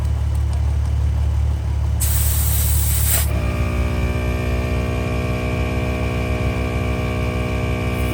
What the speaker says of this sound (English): Now this is my first time airing up with the compressor